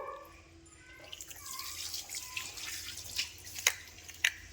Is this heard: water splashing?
yes